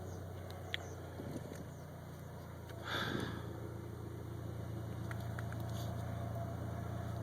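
A 1993 Ford Ranger 2.3 idles after a cold start, a steady low engine hum running throughout with a slight lift in level partway through and faint clicks and rustles nearby.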